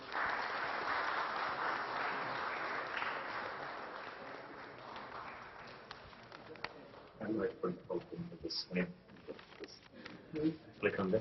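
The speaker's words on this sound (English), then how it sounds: "Round of applause, people." Steady audience applause at an endowment lecture award ceremony fills the hall for several seconds, then fades out as scattered voices and shuffling take over.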